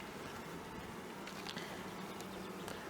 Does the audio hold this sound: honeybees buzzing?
yes